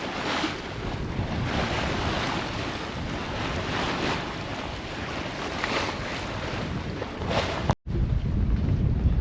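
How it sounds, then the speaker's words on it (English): Wind and waves at sea while under sail on an Atlantic passage into Portuguese waters: a steady roar of wind buffeting the microphone over rushing, sloshing water, continuous and close, with a brief dropout near the end. "the wind's just filled in nicely for us to end the trip with a good sail"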